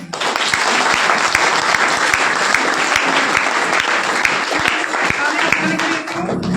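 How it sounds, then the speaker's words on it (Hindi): A large seated crowd at an RCM business motivational talk in Gwalior breaks into loud, dense applause that holds steady and close throughout, tapering slightly at the very end. "एक बार जोरदार तालियां अपने अपने प्लान में"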